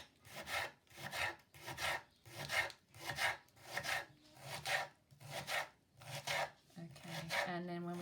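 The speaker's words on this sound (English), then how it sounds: "leaving the skin on and slicing it nice and finely" Knife slicing a skin-on vegetable finely for a bolognese sauce, about ten even, rhythmic rasping cuts on a board, close and clear, with a brief hum near the end.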